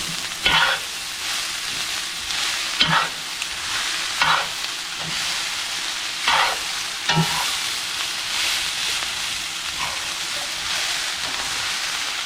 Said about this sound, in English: you just really want to keep mixing it until everything is evenly. Break up any chunks.